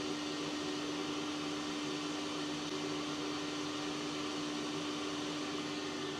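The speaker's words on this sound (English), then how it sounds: "I'll turn off my vacuum, turn off the hopper" Vacuum and hopper of a Pi Raptor portable particle analyzer running together, a steady loud mechanical whir and broadband hiss with a constant low tonal hum and no variation throughout.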